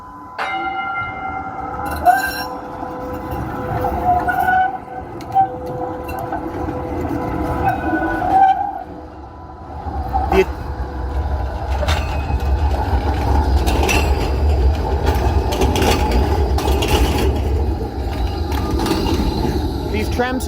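A city tram rolls through an urban park, wheels rumbling low and growing steadily louder in the second half, with metallic rail clanks and a ringing bell-like tone early on.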